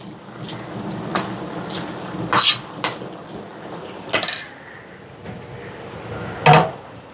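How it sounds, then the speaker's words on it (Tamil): Tempering tipped into a pot of curry while cooking lunch in bulk, heard as scattered clanks and scrapes of metal utensils against cookware, several louder knocks standing out over a low kitchen hiss, close by with no talking. "இப்போ குழம்புக்கு தாளிச்சதை சேர்ப்போம்."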